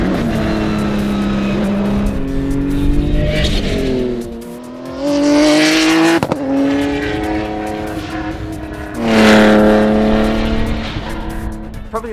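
Hyundai race car on a test track, its engine loud and close with rising and falling revs through gear changes, strong harmonic whine building and easing repeatedly over about twelve seconds, no talk.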